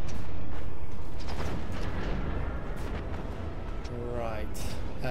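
Artillery fire in the real-time strategy game Planetary Annihilation: Titans, a dense, continuous roar of booms and rumbling impacts that stays loud throughout, with mechanical clatter and a sweeping synthetic tone near the end.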